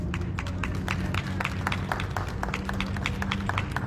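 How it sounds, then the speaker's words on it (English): Applause from a small Take Back the Night rally audience in Denver, a thin, scattered patter of individual claps and a few cheers, fairly close and steady throughout. "That was a weak round of applause"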